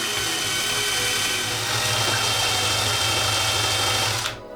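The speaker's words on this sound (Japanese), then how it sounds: "これでドリルを回すとこんな感じで" An electric drill spinning a fishing line spool in a homemade line recycler whirs continuously at a steady high speed, loud and close, then winds down abruptly at the end.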